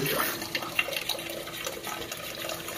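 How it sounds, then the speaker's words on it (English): Water flows steadily from the Luxe E890 electric bidet to rinse its nozzle, a faint, even trickling hiss with small splashes throughout. "you can hear the beeping sound, and then the water starts flowing out, cleaning the nozzle that's inside it here"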